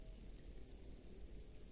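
Crickets chirping at night in a rice paddy beside a mung bean field: a steady pulsed trill repeating about every quarter second, fairly close and continuous, with no one speaking.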